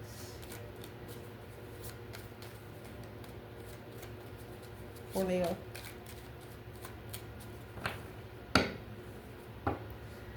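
Tarot cards are shuffled in a few crisp bursts of riffling and slapping near the microphone, over a quiet background hum, while someone speaks softly.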